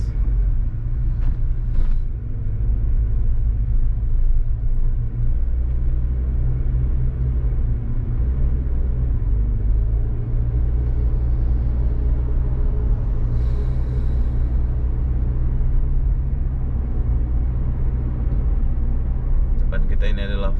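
Traffic on a wide five-lane city road in Batam Center, Indonesia, during the fasting month: a continuous low rumble of passing cars and engines with little variation, without speech.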